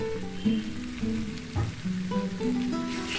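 Steady frying sizzle of masala in a pan as water goes in for a pointed gourd and prawn curry, crackling throughout with a few louder bursts and faint tonal sounds underneath.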